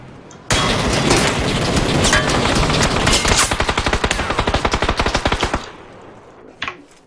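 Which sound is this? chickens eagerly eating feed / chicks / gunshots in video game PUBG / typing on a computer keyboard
gunshots in video game PUBG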